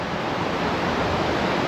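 Waves wash onto a small beach on Koh Larn island, Thailand, in a soft, continuous surf hiss with slight wind noise. The sound is close and steady, and no one speaks.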